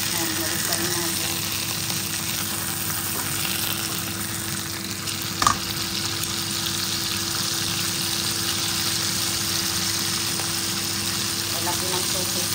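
Sausage frying in a pan for a home dinner alongside pasta and spinach, a steady close sizzle and hiss with a brief clatter midway and a low background hum.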